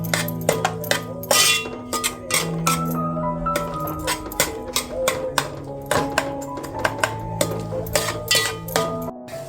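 A metal spoon stirs ginger-garlic paste in a cooking pot for a vegetarian soybean biryani, giving repeated close, bright clinks and scrapes against the pot in an uneven, busy rhythm.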